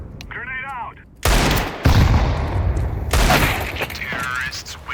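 In Counter-Strike 2, a short in-game radio voice cue is followed by a loud grenade blast and sustained bursts of gunfire that fill the rest of the moment, dense and close.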